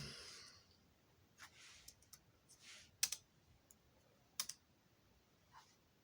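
Someone types on a computer keyboard that has been acting up, producing scattered single clicks and short bursts of keystrokes at close range with quiet pauses between them, plus faint breathing.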